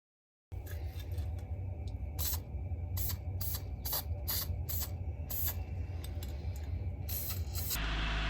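A lanolin-based rust protectant is sprayed onto rusted Subaru brake lines. It comes as a quick series of short, hissing bursts close to the microphone, followed by a steadier spray at the end.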